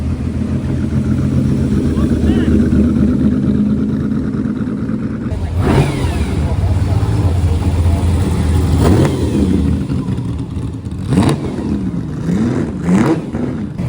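A Ferrari 250 Testarossa engine revs loudly and close by at a busy outdoor car gathering, with several sharp rising and falling bursts over steady crowd and traffic noise.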